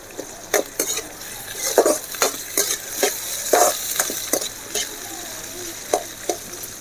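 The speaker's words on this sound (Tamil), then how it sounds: "வெங்காயம் நல்லா வதங்கிட்டுருக்கு இப்போ இந்த கருவேப்பிலையும் போட்டுக்கலாம்" Sliced onions and curry leaves frying in oil as a spoon stirs them, giving sharp intermittent scrapes and taps on the pan over a steady hiss of sizzling, close up.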